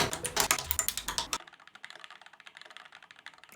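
Rapid, steady keystrokes on a loud, heavy mechanical computer keyboard, a dense clatter at first that turns lighter and quieter but keeps up an even typing rhythm, with no voices.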